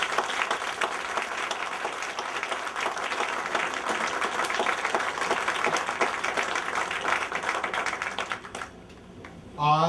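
A church congregation at the Elmore Church of God 100th anniversary Saturday service claps steadily for several seconds, the applause thinning out near the end before a voice begins speaking.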